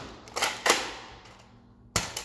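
An Adventure Force Arsenal toy dart blaster fires in sharp pops: two close shots, a pause, then two more, each snapping loud with a short decaying tail, no talk.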